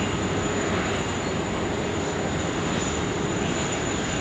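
A Jetstar airliner lands on runway 16 right at Sydney Airport, giving a steady, loud engine roar and broad rushing noise that holds unchanged from start to finish with no voices over it.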